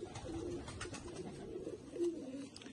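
Pair of Motion pigeons cooing softly in Faisalabad, a few low, faint rolling coos against quiet background noise.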